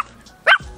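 A person's voice imitates a dog bark with one short, loud bark-like yelp standing out after a quiet moment.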